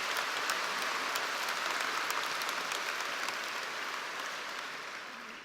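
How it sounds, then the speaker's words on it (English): Steady applause from a large crowd at a military college commissioning ceremony, dense and continuous, slowly fading toward the end. "let's clap for him"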